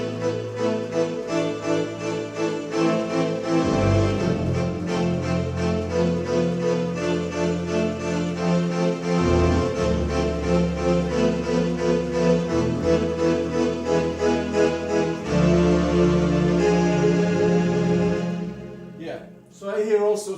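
Ensoniq keyboard string patch playing a song, sustained lush chords and a moving melody filling the room steadily, swelling loud and unbroken with no talking.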